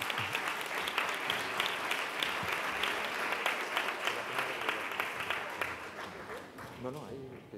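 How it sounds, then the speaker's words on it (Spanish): Warm audience applause at a book presentation as an author goes up to the podium, steady and sustained, then thinning at the end as a voice begins speaking over it. "Un fuerte aplauso para Eva."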